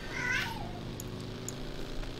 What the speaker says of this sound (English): you're going to hear cat noises and dog noises